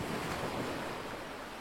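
Large ocean waves break onto a beach in a continuous, loud, close roar of surf with no voices.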